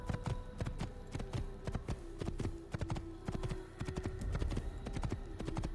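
Hooves clip-clop steadily and close by as a horse is ridden in the Assassin's Creed video game, a continuous quick beat with a low hum underneath.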